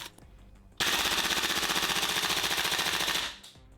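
A Tokyo Marui M4 MWS gas blowback airsoft rifle fires a sustained fully automatic burst of rapid, evenly spaced pops, loud and close, lasting about two and a half seconds before stopping abruptly, with no talk.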